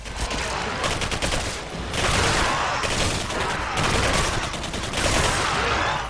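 Dense bursts of automatic gunfire and explosions from the Xbox 360 sci-fi first-person shooter Singularity, loud and nearly continuous with rapid rattling volleys and booms.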